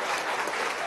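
Brief burst of loud crowd applause at a hospital inauguration in El Furrial, Venezuela, honoring Cuban doctors, dense clapping with faint crowd noise mixed in.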